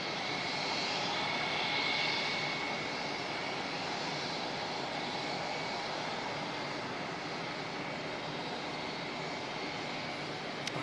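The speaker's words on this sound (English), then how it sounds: "Next arrival will be Jetstar 228 coming in from Christchurch." A Jetstar airliner arriving at Auckland Airport from Christchurch, its engines producing a steady, distant broadband roar that holds evenly for the whole stretch with no voices.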